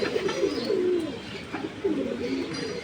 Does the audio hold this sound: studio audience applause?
no